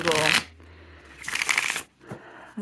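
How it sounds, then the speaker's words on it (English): A medieval-themed tarot card deck is shuffled by hand in two loud, close riffling bursts, followed by a shorter, softer flutter of cards. "And so I'm going ahead and shuffling this"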